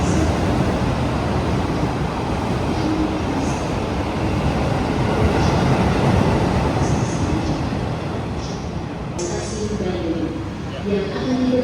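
An Argo passenger train runs on the rails in Indonesia, a loud steady rumble and clatter of wheels throughout, with a voice making announcements over it.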